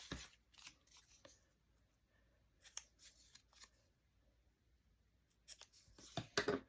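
Scissors cutting a piece off a crafting master board, a few close, quiet crisp snips and rustles in short bursts separated by near-silent pauses.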